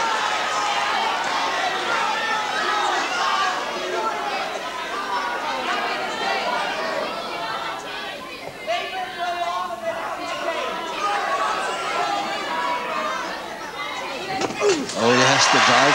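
Crowd at a 1984 British wrestling bout between two wrestlers, a continuous roar of cheering and shouting from the hall under an excited commentator talking throughout.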